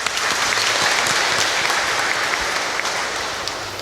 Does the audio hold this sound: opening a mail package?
no